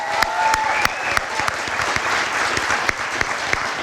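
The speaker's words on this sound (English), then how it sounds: "Let's give Tommy Self a big round of applause." An audience at a spring sports awards event applauds Tommy Self with dense, steady clapping that holds at an even loudness for the whole stretch, with no voices rising above it.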